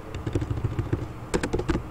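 Quick, light clicks of typing on a computer keyboard as fields are filled in, a brisk uneven run of keystrokes with a short pause before another burst.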